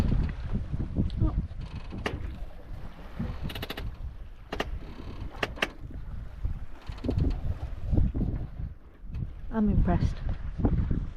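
Wind rushes steadily over a small sailboat under way at about three knots on the sea, a continuous blustery noise against the microphone, with people talking briefly over it.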